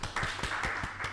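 A short burst of audience clapping during a student law fair event at a university, with a few distinct claps close by over a thin wash of hands.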